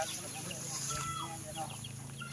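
Chickens cluck intermittently in a village farmyard near houses, fairly soft, with a low steady hum and faint voices in the background.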